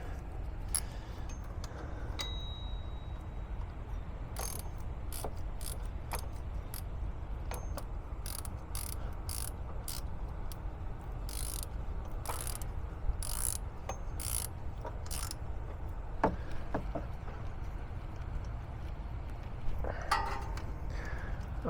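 A ratchet wrench with a 13 mm socket tightens a bolt on a car's pulley bearing, giving repeated bursts of sharp ratcheting clicks with pauses between strokes, over a steady low room noise.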